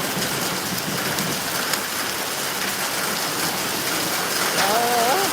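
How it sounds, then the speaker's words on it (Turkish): Heavy rain and hail pound a surface in a dense, steady hiss and patter; a voice briefly speaks near the end. "Doluya baksanıza. Hem de nasıl yağıyor."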